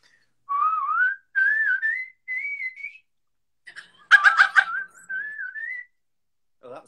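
A person whistles a run of high, sliding notes imitating whistle-register singing, heard as clear melodic phrases with short pauses between them, close and fairly loud.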